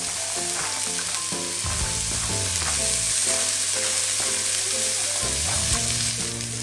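Onions fry in a pan for a spaghetti dish with chorizo, giving a steady, loud, close sizzle with occasional stirring scrapes and no talking.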